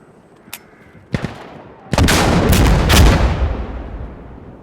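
Grenade blast in the shooter game Insurgency: Sandstorm: a few sharp gunshot cracks lead into a heavy explosion whose loud, booming rumble swells and fades over a couple of seconds.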